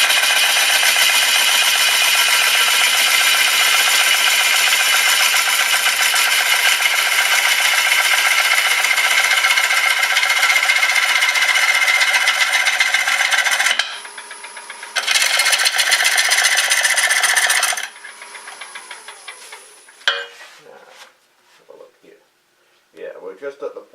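Gouge cutting a wet wood bowl on a lathe, giving a loud, steady, close scraping hiss that breaks off briefly, resumes, then tapers into quieter intermittent scrapes and taps.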